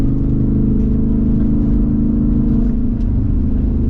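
A Jeep Wrangler 392 AEV drives off-road through curves, its engine giving a loud, steady, close low rumble and whir without any noticeable revving changes.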